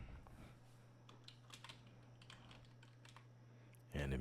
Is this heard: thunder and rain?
no